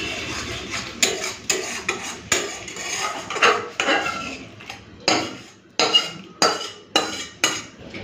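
Metal utensil scraping and clanking against a cooking pot as cooked spice mix goes into khichuri, a dozen or so sharp close knocks and scrapes in an irregular rhythm, no voices.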